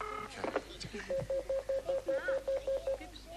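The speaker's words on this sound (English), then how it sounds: "It's ringing now." A telephone rings down the line as a rapid, evenly spaced series of about a dozen short electronic beeps, following a moment of voices talking.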